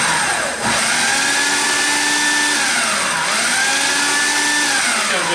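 A blender pulses basil for gazpacho, its motor whirring loud and steady, rising and falling in pitch across two long pulses with no talking.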